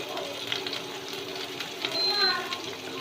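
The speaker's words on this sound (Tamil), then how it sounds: "பச்சை மிளகா நல்லா வதங்கிடுச்சு எண்ணெயிலேயே" Green chillies and crushed cumin fry in oil, giving a soft, steady sizzle with faint stirring and no talk.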